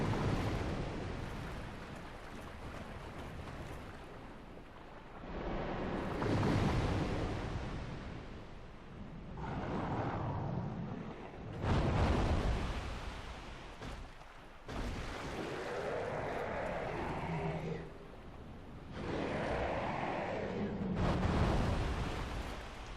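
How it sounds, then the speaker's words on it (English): A Hydra's water blast attack in Dark Souls Remastered: heavy rushing, roaring surges like breaking surf, arriving in several long, loud waves that swell and fade. "I really hate the Hydra's damn water blast attack"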